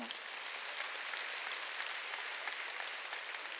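A congregation applauds during a Sunday church service, giving a steady, even wash of clapping from many hands that fills the whole stretch without any talk.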